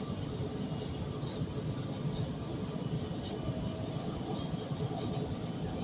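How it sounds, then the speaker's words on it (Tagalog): A steady, continuous rumble of a metro train rolling along rails, a dense low roar with no breaks, fairly loud and close. "Ayan, train yan. Ayan, ayan yung metro."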